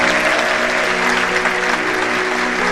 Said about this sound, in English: Round of applause, Ramsey.